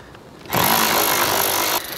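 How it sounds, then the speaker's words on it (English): A ratchet wrench takes bolts out during an oil change, giving one loud, close, continuous mechanical buzz lasting just over a second, with quiet before and after. "get yourself one of these ratchet wrenches because they save you so much time"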